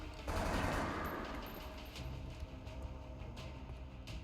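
Gunfire in the turn-based strategy game XCOM: Enemy Within: a burst of rapid shots opens loudly, then fades into lighter scattered crackling impacts, with no talk over it.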